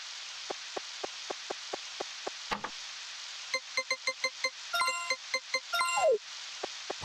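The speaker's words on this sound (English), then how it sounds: "Raining all day." Rain falls in the video game Harvest Moon 64 as a steady soft hiss, with regular light ticks and chiming menu blips layered over it, and no talking.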